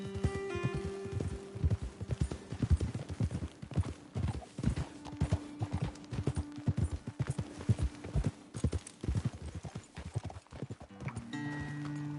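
Rapid clip-clop of several horses' hooves on hard ground in the video game Red Dead Redemption 2, close and continuous, with an occasional whinny and faint background music.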